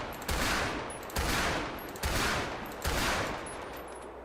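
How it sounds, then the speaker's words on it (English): A heavy pistol fires four evenly spaced shots in a GTA V FiveM game, each a loud, sharp bang with a noisy decaying tail. "heavy pistol"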